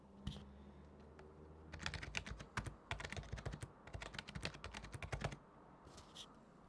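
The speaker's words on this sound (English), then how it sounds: "And then we will just enact if I was typing an email perhaps." Rapid clacking keystrokes on a SteelSeries Apex 3 TKL gaming keyboard, close and clear. Typing comes in quick dense bursts like writing an email, with short pauses between runs.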